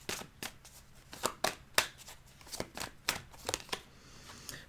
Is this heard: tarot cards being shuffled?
yes